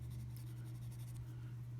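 An Apple Pencil-style stylus sketches on a tablet screen in Procreate, its side dragged across the glass in a faint, continuous soft scratching over a low steady hum, with no talking.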